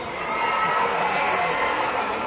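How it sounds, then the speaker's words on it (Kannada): An audience applauds at a mass wedding ceremony for 151 couples in Sindhanur, with dense, steady clapping filling the hall for a couple of seconds at close range. "ಮೊದಲನೇ ಜೋರಾಗಿ ಇವ್ರಿಗೆ ಒಂದು ಚಪ್ಪಾಳೆ ಬರಲಿ"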